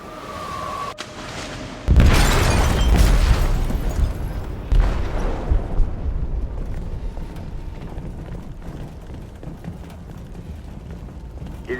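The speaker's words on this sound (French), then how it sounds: "Ils ont déclenché un explosif dans la cale." An explosive detonates in a ship's hold in the Detroit: Become Human video game: a sudden heavy boom after a brief quiet, followed by a long rumbling, creaking decay with a second thud partway through.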